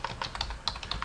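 Fast, uneven key taps on a computer keyboard, a quick run of close, crisp clicks with small pauses between bursts, heard alone.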